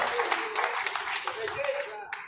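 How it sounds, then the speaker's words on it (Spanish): An audience claps at a rural community meeting, a brief burst of scattered applause heard under and around a voice over a loudspeaker. "Un fuerte aplauso."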